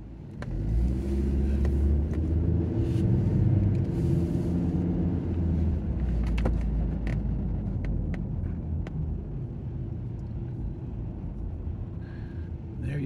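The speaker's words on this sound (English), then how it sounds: "Nice little short drive in this beautiful low miles Hummer." A 2009 Hummer H3 SUV with low miles on a short drive, heard from inside as a steady loud low engine and road rumble that swells during acceleration and then settles into cruising.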